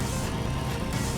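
A steady, rumbling Volkswagen Beetle engine in the video game Horizon Chase Turbo drones continuously with a gritty, burbling low end, loud and close, no voices.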